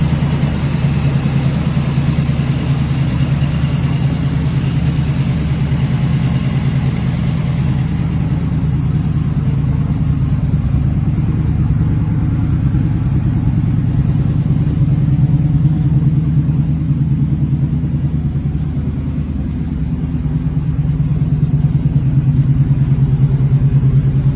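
A 1964 Pontiac GTO pro street car's engine runs with a steady, loud, low rumbling idle throughout, the tone shifting slightly midway with a brief dip near the end and no voices.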